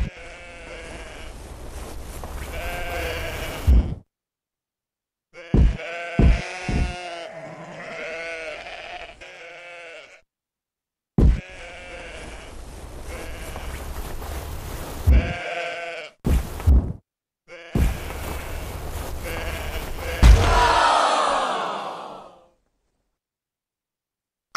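Repeated sheep bleats in the video game Rock of Ages 3, in short bursts separated by brief silences, with a longer drawn-out bleat near the end, loud and close, no talking.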